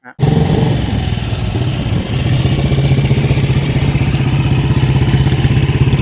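An old BSA motorcycle engine, about 70 years old and English-made, idles with a loud, steady, low chugging putter that starts abruptly and keeps a regular uneven rhythm throughout.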